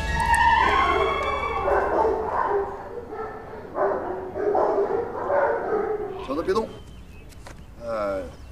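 Police dogs bark and yip several times close by, their calls mixed with a man's speech throughout, with a short whimpering sound near the end.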